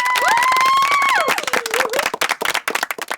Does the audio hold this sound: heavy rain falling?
no